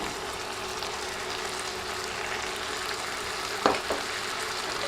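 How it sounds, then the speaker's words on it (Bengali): Bitter gourd and green chillies stir-fried in a pan, giving a steady low sizzle throughout with a brief scraping stir near the end; no voices. "করলার সাথে দিচ্ছি কাঁচামরিচ এখন নেড়ে সব কিছুর সাথে মিশিয়ে দিচ্ছি"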